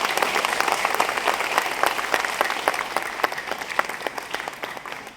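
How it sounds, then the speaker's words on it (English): An award-ceremony audience applauds steadily throughout, a dense sustained clapping that slowly tapers toward the end, with no speech over it. "Can we have a loudest round of applause for the shining stars,"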